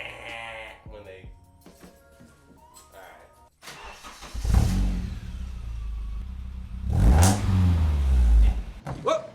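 A Nissan 240SX with a catback exhaust cranks and fires up, then revs hard in loud, rasping bursts after a stretch of quieter handling noises and talk; the revs rise and fall twice near the end.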